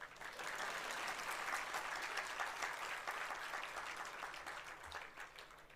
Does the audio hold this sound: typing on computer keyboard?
no